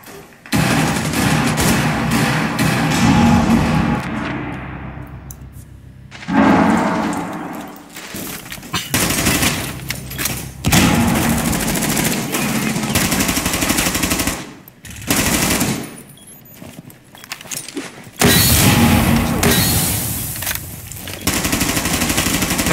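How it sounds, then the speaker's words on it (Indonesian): Loud, sustained automatic gunfire in the video game Rainbow Six Siege, arriving in long dense bursts broken by short pauses and dropouts, with occasional thuds mixed in. "Ada nembak kamu juga, Bin."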